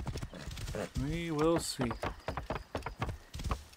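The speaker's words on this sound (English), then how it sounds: "Come on, horse. Jump over this." Horse hooves clip-clop while riding in Assassin's Creed Origins, quick hoof beats mixed with a whinny and someone talking over them.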